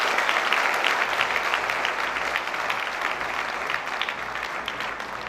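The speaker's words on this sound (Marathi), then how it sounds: "रमेश घोलप सरांसाठी इथे जोरदार टाळ्या झाल्या पाहिजे" An audience at a UPSC and MPSC toppers' talk applauds Ramesh Gholap, a sustained roomful of clapping that stays strong and even throughout, easing only slightly in volume, with no one speaking.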